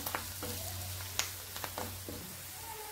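Red chili powder, coriander powder and garam masala sauté in a pan with oil, giving a soft, low sizzle with a few scattered clicks and scrapes of stirring, quiet and close.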